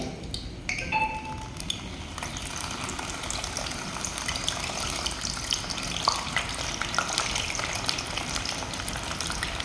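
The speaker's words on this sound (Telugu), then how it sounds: "ఈ అరటికాయ ముక్కల్ని ఒక ఐదు నిమిషాల పాటు ఆయిల్లో డీప్ ఫ్రై చేసుకోవాలి" Peeled raw banana pieces deep fry in oil with a loud, bubbling sizzle that stays dense and continuous, occasionally stirred, with no voices.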